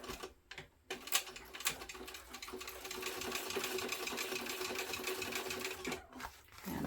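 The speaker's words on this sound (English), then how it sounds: "So we're going to top stitch that." A sewing machine topstitches a seam on a fabric backpack with an eighth-inch seam allowance, starting with a few short bursts, then running in a steady rapid close clatter before pausing and restarting.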